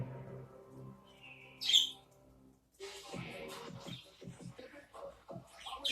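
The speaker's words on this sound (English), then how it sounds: "What are you birds doing? The crazy birds." Pet budgies chirp and squawk close by, a sharp high call standing out among softer tweets over a steady background hum.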